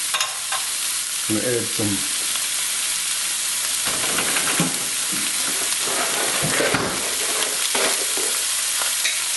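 Vegetables sweating in a hot pan for fresh pork hock with sauerkraut: a steady, close hiss and sizzle with intermittent stirring clatter, and a brief spoken line from a cook.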